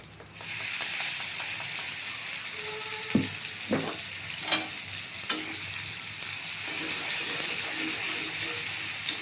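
Spice masala sizzles and fries steadily in a pan on a lowered flame, a continuous hiss with a few soft stirring clicks and scrapes standing out near the middle.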